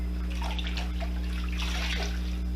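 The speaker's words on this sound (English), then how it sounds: "you want to make sure you're agitating the greens and let them soak for at least 1 to 2 minutes, and keep agitating them" Collard greens being swished and agitated in a basin of water, with splashing and dripping over a constant low electrical hum and no speech.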